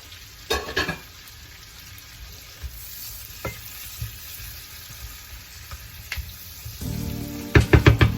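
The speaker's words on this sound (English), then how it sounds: "In a frying pan, I've got virgin olive oil, garlic, and now I'm going to put some zucchini in with it." Zucchini and garlic fry in virgin olive oil in a frying pan, a low hiss with stirring knocks and scrapes, swelling into louder crackling sizzle near the end, no voices.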